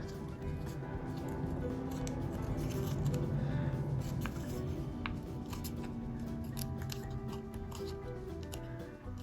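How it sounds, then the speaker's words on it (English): Paper being folded and creased by hand for an origami kusudama: steady, close crinkling and rustling with small crisp snaps throughout, no talking. "push the center point down and fold the creases you just made up"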